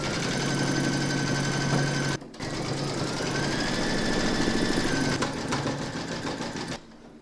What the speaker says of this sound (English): Load your matching bobbin and thread for the spots into your machine, and then you're going to stitch round number 6.